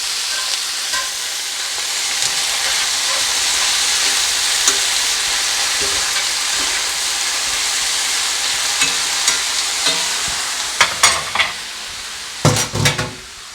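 Drained spinach and onions sizzle steadily in a frying pan, with a continuous hiss and a run of sharp utensil clinks and scrapes against the pan toward the end.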